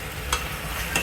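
Chicken pieces for a quick curry sit frying in a hot pan, giving a continuous close sizzle with two short scraping stir sounds.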